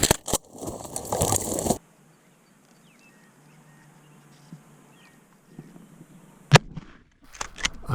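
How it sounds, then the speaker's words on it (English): A shotgun blast fired at a wild turkey during a spring hunt outdoors, one sharp, loud crack in the middle of near silence, with rustling and handling noise before and after. "I rushed the shot and I missed the turkey at 10 yards."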